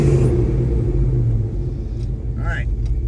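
A 1970 Chevrolet Chevelle with a 396 engine and four-speed manual rumbles steadily from inside the cabin, a low continuous drone that eases slightly midway, with a brief faint squeak near the end.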